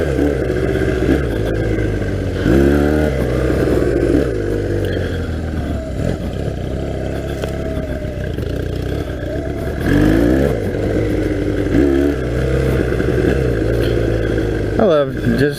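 A 1982 Honda 250cc flat track motorcycle engine revs up and down in repeated surges while riding slowly over rough ground, close and loud, with a rider's voice talking over it.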